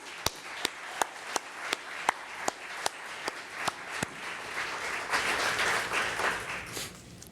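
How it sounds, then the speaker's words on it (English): Scattered clapping from a small crowd at a design competition awards event starts with distinct, evenly spaced claps, then swells into denser applause. "Let's give a round of applause to all of our sponsors."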